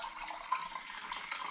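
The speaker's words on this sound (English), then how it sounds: "I'm going to pour a litre of the blackcurrant and sugar solution into this jug quite messily" Blackcurrant and sugar solution poured messily from a pan into a jug, a steady liquid splashing and trickling throughout, fairly quiet with no talking.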